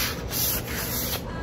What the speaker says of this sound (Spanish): Luego le vamos a pasar una lija bien delgadita, en este caso estoy utilizando la 600, para que quede la superficie bien suavecita.